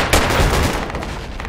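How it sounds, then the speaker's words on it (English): Dense gunfire from the military video game Project Reality, a loud burst of overlapping shots and rattling fire filling a short stretch, close and harsh with no talk over it. "We're getting shot up."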